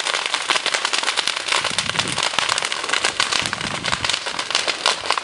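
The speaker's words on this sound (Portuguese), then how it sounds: "o fogo incide um pouco mais." Vegetation fire burning beside the BR-316 highway in dry weather, a dense continuous crackling and popping that stays loud and steady throughout, with no talk over it.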